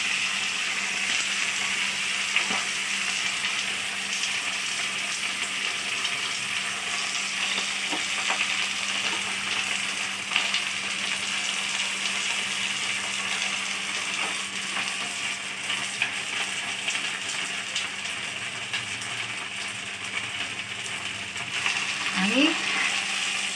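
Fenugreek leaves fry in a pan with peanut powder, giving a steady, even sizzle that holds for over twenty seconds, close and moderately loud, with a few faint clinks and a brief rising tone near the end.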